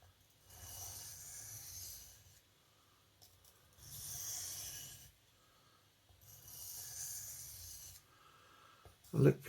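Knife blade drawn across a 1000 grit whetstone in three slow, evenly spaced rasping strokes, quiet and close, with short pauses between passes.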